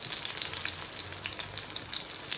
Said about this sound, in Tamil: என்ன கிச்சனில் மீன் மட்டும் தனியாக பொரிஞ்சிக்கிட்டு இருக்கு